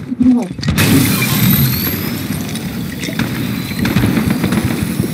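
Fortnite duo match gameplay with rumbling booms and bursts of gunfire throughout, sustained and fairly loud, with a voice speaking briefly near the start.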